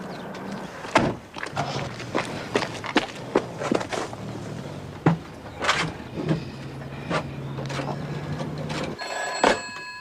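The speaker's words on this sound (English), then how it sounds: "Phone." An old telephone rings in repeated bursts in an interior, loud and close, with footsteps and a door moving around it and no talk.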